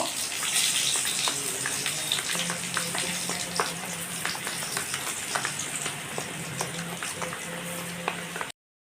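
Sliced pointed gourd frying lightly in oil, giving a steady close sizzle with scattered pops and faint clinks from a spatula throughout. No one speaks.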